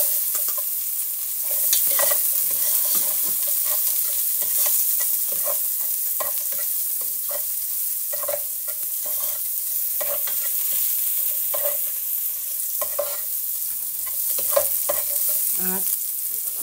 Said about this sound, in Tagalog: Maglagay na po tayo dito ng onion.